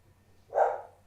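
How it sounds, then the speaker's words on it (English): A dog named Monty gives a single close, sharp bark in a quiet room, rising abruptly and tailing off over a fraction of a second. "That's the dog."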